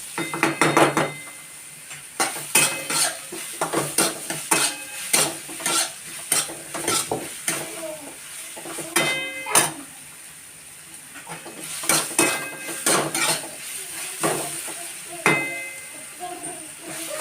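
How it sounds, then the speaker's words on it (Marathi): Grated potato being sautéed and stirred in a pan for sabudana khichdi, with repeated scraping and clattering strokes of a utensil over a soft sizzle, close and fairly loud throughout. "हे किस मी आधी स्वच्छ बटाटे धुवून किसून परत धुवून काढलेला आहे। 2 मिनिटं आपण परतून घेऊया।"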